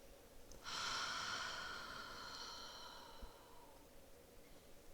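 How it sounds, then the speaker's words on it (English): A single long, breathy exhale through the mouth during a relaxed yoga class, soft and close, rising quickly then trailing off slowly, with quiet room tone around it. "in through the nostrils and out through the mouth. Option to make audible sounds as you breathe."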